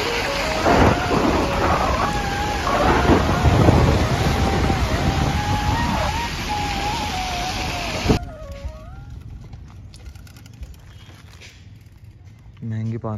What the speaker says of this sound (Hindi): बारिश का मौसम और हम लोगों ने रेन कोट पहन लिया है